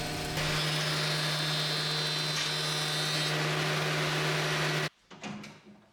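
A DeWalt planer thicknesser takes about 2 to 3 millimetres off a 1.5-metre wooden board, giving a loud, steady machine roar with a high whine that cuts off abruptly near the end, followed by a few knocks as it spins down.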